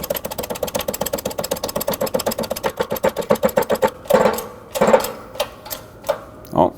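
A hand-operated press tool forces a front wheel bearing into the hub of a 2012–2019 Fiat 500, giving a fast, steady run of close mechanical clicks followed by several slower, heavier pumping strokes.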